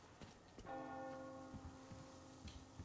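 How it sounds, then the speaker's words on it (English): A church bell rings in the video game Metro Exodus, one clear resonant strike with a long humming decay, heard at moderate distance under faint background clicks and thuds. "Do you hear that bell?"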